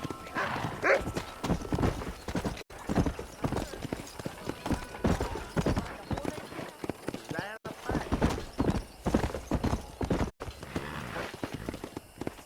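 Horse hooves clip-clop at a quick gallop in the Red Dead Redemption video game, a steady rhythmic drumming with an occasional whinny, heard close under game dialogue and music.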